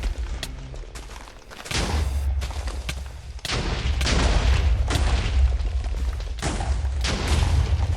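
Loud booms and bursts from fireballs exploding in a Minecraft Bedwars match, with several blasts over a continuous roar of game action and no talking.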